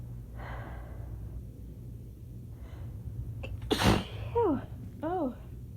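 One loud, close sneeze bursts out during a sneezing fit brought on by shower water up the nose, preceded by breathy inhales and followed by wavering groans and sighs over a low indoor hum.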